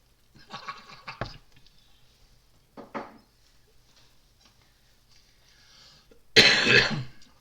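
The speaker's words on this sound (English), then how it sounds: "So loud at coughing." A few rough coughs and throat clearing, the last burst loud and close, separated by quiet pauses.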